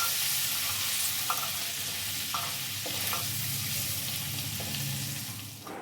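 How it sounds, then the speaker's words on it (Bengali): Shrimp coated in salt and turmeric fry in hot oil, an even close sizzle with a few light utensil knocks and scrapes, no voices. "নুন হলুদ দিয়ে চিংড়ি মাছটা আমরা ভেজে নেব।"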